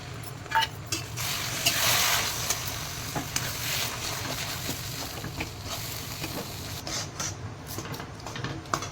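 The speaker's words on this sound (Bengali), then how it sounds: "এবার আমি এই নারকেল দুধটা দিয়ে দেবো" Coconut milk pours into chickpea lentil halwa in a hot pan, setting off a steady sizzle with stirring and bubbling, a brighter hiss swelling briefly near the start before settling into a continuous fry.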